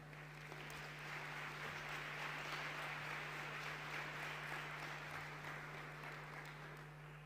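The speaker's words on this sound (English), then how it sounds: "Clapping is in order." An audience claps at the opening ceremony of a model UN conference in a congress hall, a sustained, even roar of applause with a steady low hum beneath it.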